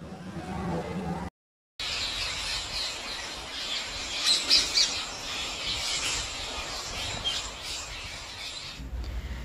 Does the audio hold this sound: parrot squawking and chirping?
yes